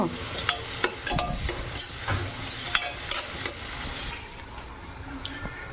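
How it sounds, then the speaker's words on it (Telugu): Onions fry in a pan with a continuous sizzle, crackling bursts and repeated scraping strokes of a spoon stirring against the metal, close up and without talk. "ఉల్లిపాయ చూడండి మంచిగా దోరగా వేగింది కదా"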